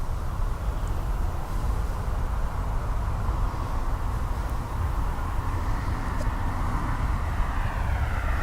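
A passenger airplane on its takeoff run at Dublin Airport, flight EI 608 bound for Amsterdam, producing a steady, loud broadband jet roar that holds throughout without a break.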